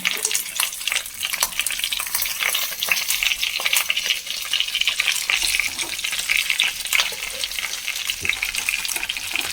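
Fish frying in oil in a pan, giving a steady, close, continuous sizzle with crackling throughout and no talk.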